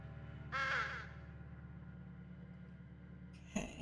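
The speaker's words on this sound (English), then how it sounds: "Large black crows are watching me." Crows caw in a video game graveyard, with one loud, harsh caw early on and another sharp call at the end, set over a low, steady droning background.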